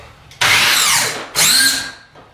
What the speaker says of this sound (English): take one of your screws and get that into the hole